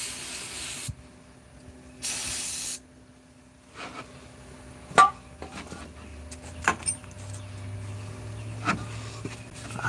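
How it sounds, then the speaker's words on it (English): Two bursts of brake cleaner spray hiss loudly up close during a car oil change, followed by scattered metallic clicks and mechanical handling sounds. "gonna spray a little bit more brake cleaner."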